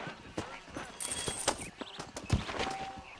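A horse in the Red Dead Redemption video game walks along with a steady clip-clop of hooves. The hoofbeats sit close and moderate in level among some background game sounds, and no one talks.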